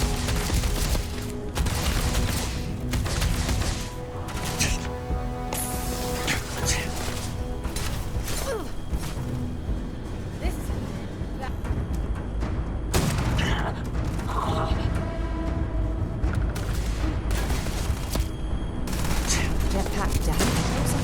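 Gunfire from a firefight in the video game Starfield: bursts of rapid shots and heavy booms crack repeatedly through the whole stretch, loud and dense, with a player's voice now and then over the shooting.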